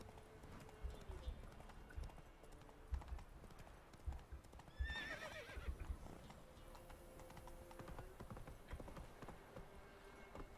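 Roach, a horse in The Witcher 3: Wild Hunt, clip-clops steadily with a rhythmic hoof beat. A whinny cuts in midway, and the hoofbeats carry on over faint game ambience.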